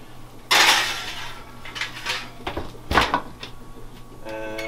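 Bacon on an oven tray goes into an oven preheated to 400, with a loud metallic clatter and scrape at the start, followed by softer knocks and thumps of the tray sliding in and the oven being handled.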